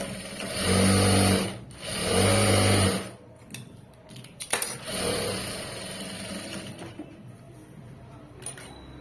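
Domestic sewing machine stitching a garment edge near the waist, two loud sustained runs of motor whir followed by quieter handling noises and brief clicks.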